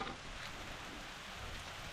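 Rain falls steadily in a forest, a soft, even hiss of drops at low volume throughout with no voices.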